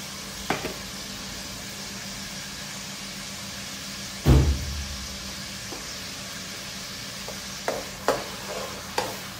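Garlic ginger paste sizzling in a pan for a meat curry, with a steady close fry hiss and a few distinct scraping stirs of a spoon against the pan, one louder clank midway.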